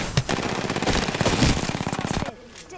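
Sustained rapid automatic gunfire in an Apex Legends firefight, loud and close with steady rhythmic shots for about two seconds before stopping abruptly.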